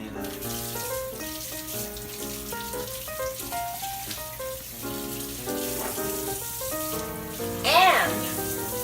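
Tap water runs steadily into a kitchen sink while hands are scrubbed during home baking, a continuous wash partly buried under louder background music throughout.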